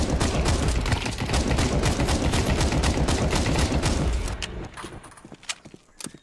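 Dense, continuous automatic gunfire from a Counter-Strike 2 deathmatch, loud and rapid for about four seconds, then breaking into a few scattered single shots before the clip ends.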